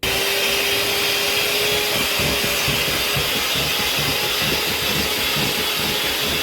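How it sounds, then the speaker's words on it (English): An electric mixer runs on high speed, beating cake batter with added milk: a loud, constant whirring drone that fills the whole moment without pause. "Now I'm going to add 1/3 of milk. Mix it on high speed."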